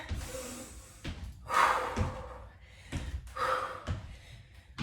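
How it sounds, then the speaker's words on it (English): Someone takes a deep, forceful inhale during a standing dumbbell interval workout, with loud breathy rushes of air repeating twice over a few seconds. "Use your breath, big inhale here."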